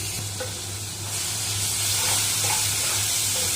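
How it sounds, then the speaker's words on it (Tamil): Ground masala paste being stirred and sautéed in a pan for Tamil mint rice, giving a steady close sizzle and frying hiss with light spoon scrapes, heard alone without talk. "எல்லாம் சேர்த்து ஒரு நிமிஷம் நல்லா வதக்கி கொடுக்கலாம்."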